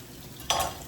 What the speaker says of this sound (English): I'm just gonna saute those up